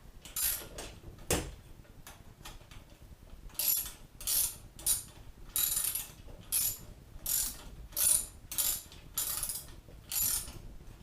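A ratchet tightens a bolt on a TS-85 beaver trap while Expand-A-Pans are fitted, about a dozen close, rhythmic clicking strokes in short bursts with a single sharp knock early on.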